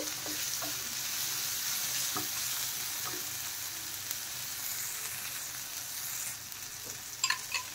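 Vegetables frying lightly in a pan, a steady broadband sizzle running continuously with small crackles and a few scraping stir sounds near the end, close and alone without speech.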